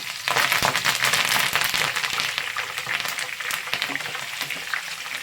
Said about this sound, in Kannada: ಗ್ರೀನ್ ಚಿಲ್ಲಿ ಹಾಕ್ಕೊಂಡು ಫ್ರೈ ಮಾಡ್ಕೊಳ್ಳೋಣ ಹಾಗೆ ಸ್ವಲ್ಪ ಕರಿಬೇವು